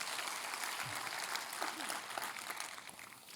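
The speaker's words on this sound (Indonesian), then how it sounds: "Boleh tepuk tangannya di extend buat tim praise and worship kita." Church congregation applauding the praise and worship team, a faint, steady patter of clapping from a crowd that continues evenly and fades slightly at the end.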